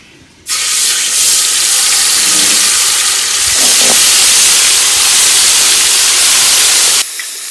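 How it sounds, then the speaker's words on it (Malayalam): Chicken frying in a pan for green biryani, a loud, steady sizzling hiss that starts abruptly and continues unbroken for several seconds before cutting off, close to the pan. "ഇനി നമുക്ക് ചിക്കൻ ഒന്ന് ഫ്രൈ ചെയ്തെടുക്കാം"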